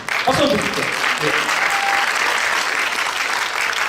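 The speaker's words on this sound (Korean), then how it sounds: "박수 한번 주십시오." Audience applause during a taekwondo instruction lecture, a full steady burst of clapping with a few voices briefly audible at the start.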